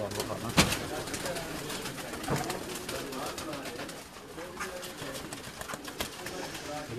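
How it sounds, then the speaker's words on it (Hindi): Sebe wala breed pigeons cooing at a home loft, soft low coos sounding under a voice, with a few sharp knocks and handling noises nearby. "ये वो कबूतर आपको दिखाया जा रहा है।"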